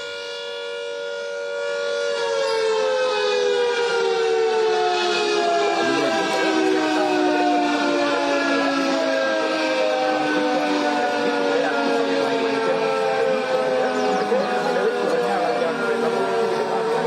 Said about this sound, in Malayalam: സൈറൺ മുഴങ്ങുന്നത് നമുക്ക് കേൾക്കാം തത്സമയം.